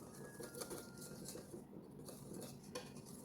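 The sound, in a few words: hand whisk whisking flour into egg batter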